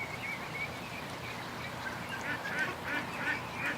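A flock of ducks calls at a homestead, with nasal honks and quacks rising intermittently over a steady outdoor background, several birds overlapping at moderate distance.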